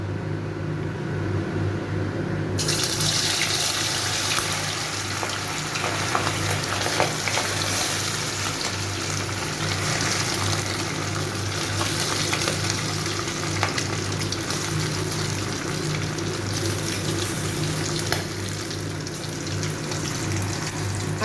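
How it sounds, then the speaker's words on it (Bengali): Chicken pieces fry in plenty of hot oil for chilli chicken, giving a steady, loud, close sizzle and crackle that runs unbroken throughout with no talking. "এবারে আমি চিকেনগুলোকে ভেজে নেব"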